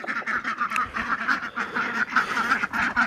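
A flock of ducks quacks continuously and busily in their enclosure, many rapid overlapping calls close by and fairly loud.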